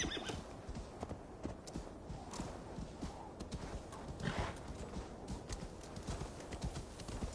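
Horse in the video game Assassin's Creed Valhalla, its hooves clip-clopping in a steady walking rhythm with an occasional whinny, at moderate, fairly quiet level.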